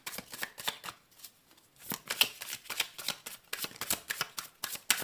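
Tarot cards shuffled by hand in quick bursts of crisp riffling and slapping, with short pauses between, close and moderately quiet, no talking.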